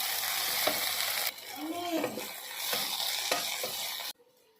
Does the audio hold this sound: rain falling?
no